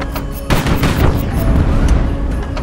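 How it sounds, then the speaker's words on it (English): Ammunition exploding aboard a ship in the naval strategy game HighFleet: a sudden loud blast followed by a dense, sustained roar of crackling detonations and rumble, heard without talk. "Oh, ammo explosion."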